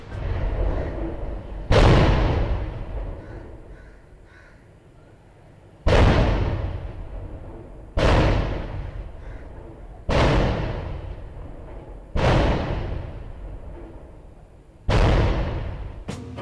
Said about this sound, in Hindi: कोर्ट गार्ड में 21 तोपों की सलामी दी गई